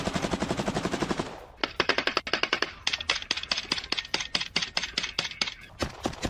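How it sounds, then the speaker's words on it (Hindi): Rapid automatic gunfire aimed at Russian soldiers in trenches near Kharkiv: dense, fast bursts of shots at first, then a run of sharp separate cracks in quick, uneven succession, loud and close, with no talking. "ट्रेंच में छिपे रूसी सैनिकों पर ताबड़तोड़ फायरिंग।"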